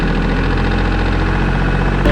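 A 32 horsepower Yanmar-engined Cub Cadet tractor runs close by, a steady low diesel drone with a rhythmic knocking pulse throughout, loud and continuous with no talk over it.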